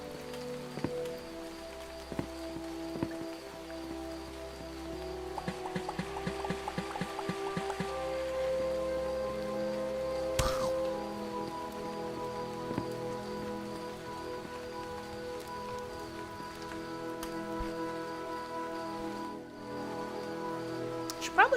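Rain falls steadily in a video game, a soft continuous patter over a quiet musical backdrop, with occasional light thuds and clicks.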